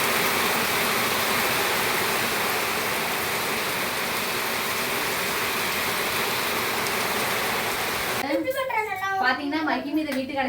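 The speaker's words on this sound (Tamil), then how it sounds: "மழையை பாருங்க, சரியான மழை." Heavy rain pours down loudly in a steady dense hiss for about eight seconds, then gives way to people talking close by.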